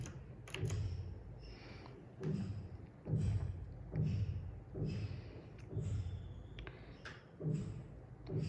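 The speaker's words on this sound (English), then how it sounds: "It produces a beautiful typewriter sound when you type" A high-quality mechanical keyboard with a typewriter-like sound, its keys clattering close in quick bursts with dull thumps, in a repeating rhythm of pauses.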